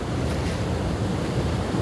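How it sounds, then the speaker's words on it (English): Ocean waves roll in at a surf beach with a continuous broad rushing wash mixed with wind buffeting the microphone, steady and close with no speech. "Nice waves coming in."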